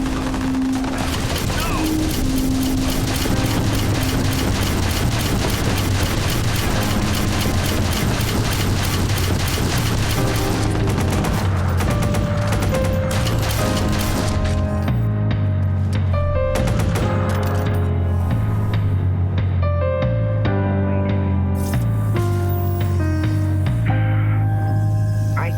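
Sustained U100 gunfire in Watch Dogs, loud and continuous, mixed with mechanical clatter and booms over a dense backing of game music.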